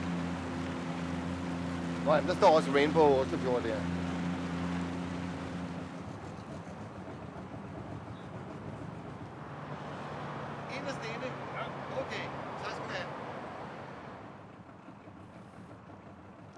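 A leisure boat motors slowly into a harbour by a hotel and moored boats, its engine a low steady drone with wind and water noise, while people talk briefly over it.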